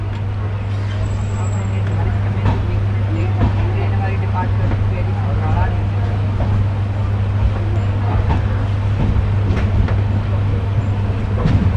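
The Nangal Dam Express pulling out of Samrala station, a loud steady low hum and rumble from inside the moving train, with scattered knocks and rattles throughout.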